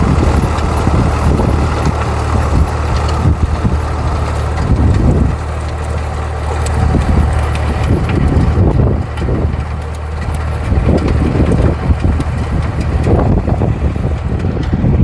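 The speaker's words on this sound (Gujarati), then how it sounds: "ટ્રેક્ટર છે 3600 વોલેટ ન્યૂ વોલેટ" A New Holland 3600 tractor engine runs steadily in a farm field, a low diesel rumble with surging bursts and wind buffeting the microphone, near and loud throughout.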